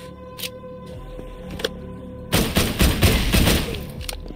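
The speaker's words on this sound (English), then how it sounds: "That's just pretty easy with a machine gun." Machine gun fire in The Walking Dead Destinies video game erupts after a couple of isolated shots, a loud, dense burst of rapid rounds lasting about two seconds.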